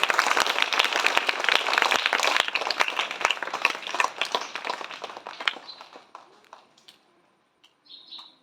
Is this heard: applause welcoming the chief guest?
yes